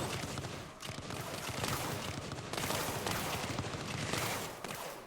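Pulse cannon towers in the strategy game Axon TD: Uprising fire in a dense, continuous barrage of rapid crackling bursts, steady and fairly loud throughout with a brief lull near the start.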